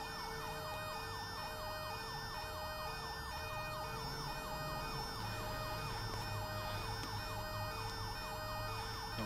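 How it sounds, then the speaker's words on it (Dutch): Ambulance siren on a Belgian MUG vehicle in GTA 5, a loud, steady, rapidly cycling wail repeating for the whole stretch over a low rumbling engine that changes pitch, with no talking. "Moet maar van die sirenes houden hoor."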